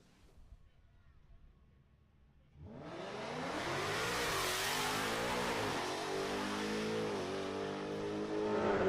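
Drag race car at a sportsman nationals event roars into a hard launch after a quiet start, then screams loud and close as it climbs up through several gear changes with rising, falling engine pitch.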